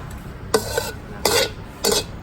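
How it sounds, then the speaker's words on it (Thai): A wok in a seafood stir-fry kitchen, with oil and fried garlic in the pan: three loud, close bursts of scraping and sizzling about half a second apart, over a steady background hiss. "อ่าน้ำมันใส่ลงไป กระเทียมเจียวสักหน่อยนึง"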